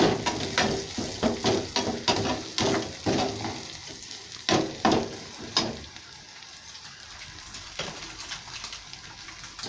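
Ginger and garlic frying in a pan, a busy crackling sizzle with irregular bursts of spatter and stirring clatter over the first half, then settling into a quieter steady hiss.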